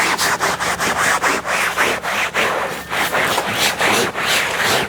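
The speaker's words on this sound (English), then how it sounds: "grab that two-way mitt and go ahead and just start scrubbing that" A two-way cleaning mitt scrubs a chair in low-moisture upholstery cleaning, giving rapid rhythmic rubbing strokes that run continuously and close up, loud and steady with no talking.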